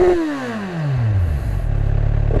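A 2023 Kawasaki Z1000R with its stock exhaust revs loudly nearby, the engine pitch sweeping down from high RPM into a steady, throbbing rumble.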